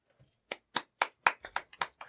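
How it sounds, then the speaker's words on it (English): A live audience claps for Milwaukee beer: roughly eight sharp, close hand claps in a ragged, uneven rhythm that starts after a brief quiet moment, with no talking. "Because you're clapping for me."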